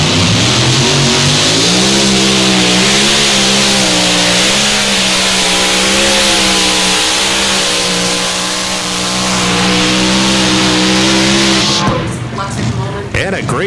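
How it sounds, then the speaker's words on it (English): A pulling tractor, the black Cowboy Up machine, roars at full throttle during a tractor pull at 300 Raceway in Farley, Iowa, a loud sustained engine drone with wavering pitch, ending in a burst of crowd and announcer noise. "we've got Troy Arndt and the black and black tractor."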